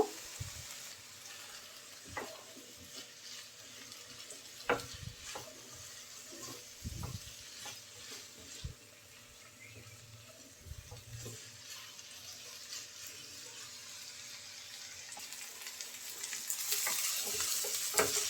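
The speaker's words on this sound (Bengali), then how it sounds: "নেড়ে চেড়ে আমি সুন্দর করে শিমটা ভেজে নেবো" Hyacinth beans (mou sim) stir-fry in mustard oil over low heat with a faint, continuous sizzle, punctuated by scattered clicks and spatula knocks, and the sizzle swells louder near the end.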